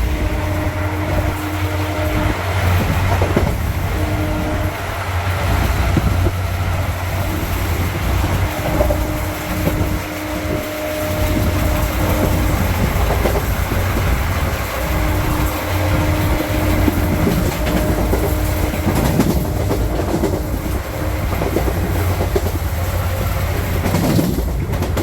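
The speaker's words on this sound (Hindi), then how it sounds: "तो फिलहाल अपनी ट्रेन निकल चुकी है अबोहर जंक्शन रेलवे स्टेशन से।" Onboard the 14526 Shri Ganga Nagar–Ambala Cantt Intercity Express after leaving Abohar Junction, a steady loud rumble of the train running on rails fills the whole stretch, with rhythmic wheel clatter and faint tonal hums.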